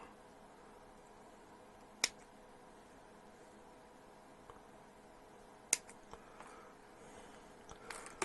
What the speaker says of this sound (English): So we'll get the shrouds off. There we go, much easier with the snips.